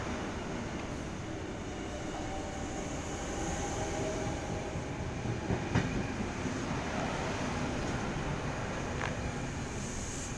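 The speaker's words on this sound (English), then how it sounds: "by the sounds of things, we've got a K-set passing." A Sydney Trains K-set electric passenger train rumbles steadily past Belmore station, a broad continuous roar with faint rail clatter and squeals throughout.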